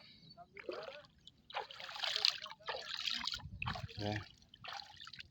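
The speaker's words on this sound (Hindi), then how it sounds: "उल्हास नदी बदलापूरहून ही वाहते पानी पण मस्त एकदम क्लियर कट पानी" Water of the Ulhas river near Badlapur trickles and flows in bursts, a close liquid gurgle and dribble with a low rumble. Faint voices come in among the water sounds.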